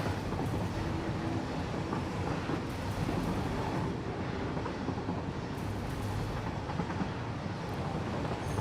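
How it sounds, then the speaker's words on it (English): Train ride in the factory-building game Satisfactory: a steady broadband rumble and rattle of rolling rail cars, continuous and fairly loud throughout with no talk. "Just use a train to get back home."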